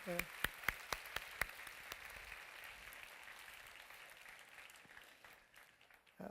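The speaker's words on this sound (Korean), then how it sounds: "뒤에서 박수 소리가 끊기지 않네요." Church congregation clapping after a worship band's set, starting with several sharp distinct claps and settling into steady, moderate applause that fades slightly before a brief swell at the end.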